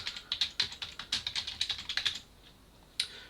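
Fast keystrokes on a computer keyboard entering a meeting type name, a steady burst of about a dozen crisp taps over two seconds, then a pause and one final key press, close and alone without voices.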